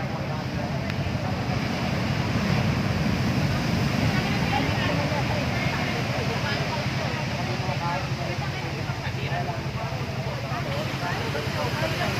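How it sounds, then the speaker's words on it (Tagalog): Heavy surf roars continuously with strong wind buffeting the microphone, a constant churning wash of water close by as waves surge onto a road. "Stranded na po yung pasero dahil po yung alon umaabot dito sa kalsada."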